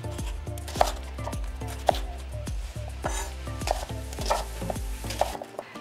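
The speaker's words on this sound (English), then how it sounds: "Okay, and then we're going to cut each half into four wedges." A knife chops an onion into wedges on a cutting board, giving a steady series of about a dozen crisp, close knocks at an even rhythm, with no voices.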